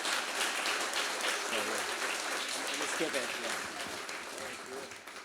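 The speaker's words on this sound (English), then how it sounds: "Can we get a round of applause for Brett?" An audience applauds a healthcare company founder named Brett after a live onstage conversation, a sustained wash of clapping from many hands that slowly fades, with voices talking through it.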